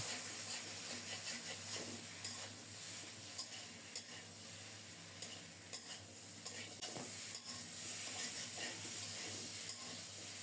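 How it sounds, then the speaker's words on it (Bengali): Prawns and taro being sautéed and stirred in a pan give a steady, close frying sizzle with scattered scraping stir strokes throughout, and no voices. "আগে এগুলি একটু ভালোভাবে কষিয়ে নেই"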